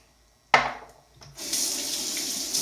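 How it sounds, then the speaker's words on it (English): A tap suddenly turns on and water runs into a sink as slick shaving soap is rinsed off hands, a close, steady hissing stream after a brief splash. "Rinse the hands because slick."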